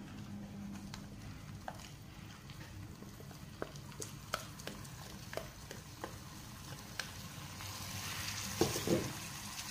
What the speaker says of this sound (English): Now, the washed white and black sesame seeds will go in.